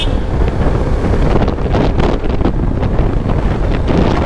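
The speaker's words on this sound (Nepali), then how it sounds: "क्या शीतल हावा आइरहेको छ र" Strong wind buffets the microphone while riding a motorbike on a hot-season road, a loud continuous rushing roar with gusty swells and no talking.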